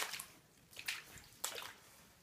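Water leaks into a flooded room where standing water covers the floor, coming as faint intermittent splashes and drips in a few short bursts with quiet gaps between them.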